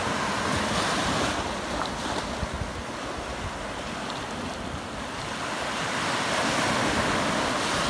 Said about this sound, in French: ces vagues qui vous détendent